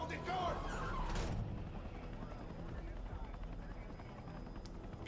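Helicopter in the Battlefield 6 video game, a steady low rotor and engine drone running throughout, with a louder burst of game noise near the start and voices talking over it.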